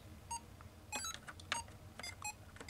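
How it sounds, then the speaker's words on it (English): Mario's Cement Factory tabletop Game & Watch electronic game beeping, a scatter of short, thin high-pitched bleeps in irregular rhythm, fairly faint and close with no talking. "there's that annoying beeping sound again, because there's three on this side"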